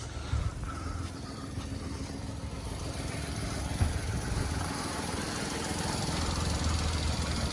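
A 2.5-litre V6 diesel car engine idles steadily nearby, a low continuous rumble with a faint knocking texture and no speech throughout.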